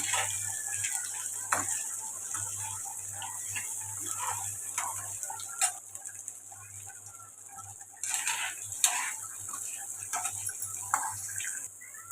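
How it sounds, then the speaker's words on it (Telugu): Raw plantain pieces fry in oil for a dry stir-fry, a continuous close sizzle with scattered crackles and stirring scrapes, steady and moderately loud throughout with no voice. "ఇలా ఫ్రై అవుతుంది కదండి"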